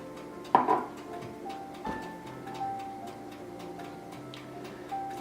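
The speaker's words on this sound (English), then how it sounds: "The timer sounds like you're on a good ticking time bomb here for the muffins" A kitchen timer ticks in a steady, fast rhythm close by while cooking muffins, with a couple of sharp clinks of dishes and a faint beep or two over it.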